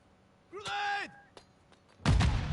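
Grenade blast in Call of Duty Modern Warfare 2 multiplayer: a short electronic tone and a faint click, then a sudden loud boom that rumbles on to the end.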